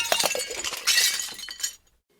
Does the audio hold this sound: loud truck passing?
no